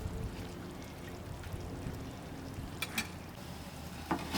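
Water pours into a pot of Cornish chicken, potato and beans cooking over an outdoor fire, a soft steady hiss and splash with a few clinks toward the end.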